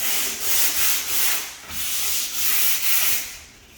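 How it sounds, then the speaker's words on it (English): Sandpaper rubbed lightly by hand over the corners of a door being prepped for paint, a steady series of soft, airy back-and-forth strokes close by with a gentle rhythm and no voices. "Gently light over them with a piece of sandpaper."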